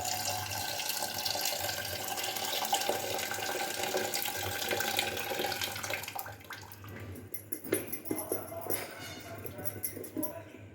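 Water pours steadily for several seconds while a curry is being cooked, giving a continuous broadband splash that fades after about six seconds into quieter drips and clinks.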